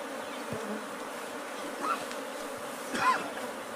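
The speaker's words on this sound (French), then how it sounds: "ces villageois ont repéré un essaim d'abeilles à l'intérieur de ce baobab" Swarm of bees inside a baobab tree, with a soft continuous drone and a few individual bees buzzing louder as they pass near.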